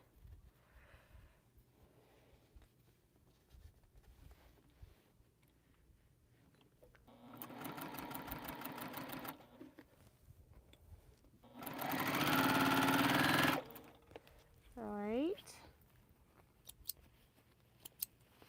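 A sewing machine stitches quilt pieces in two separate bursts of rapid, buzzing needle action, the second louder and longer, with quiet handling noises and a brief squeaky sound between them and no speech.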